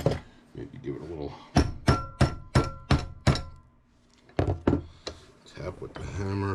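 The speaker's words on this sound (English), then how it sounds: "tap with the hammer." Sharp metallic hammer taps on a rusted Jeep Wrangler tailgate hinge strike in two quick series, ringing briefly after each hit, with faint talk at the start and end.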